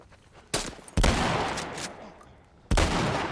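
Three heavy gunshot blasts from The Last of Us game fire at irregular intervals, each booming loudly up close and trailing off into a long rumbling decay.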